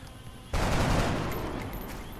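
A single sharp gunshot in the turn-based game XCOM: Enemy Within Long War, with a sudden loud onset and a long, noisy decaying tail lasting a couple of seconds, and no talk.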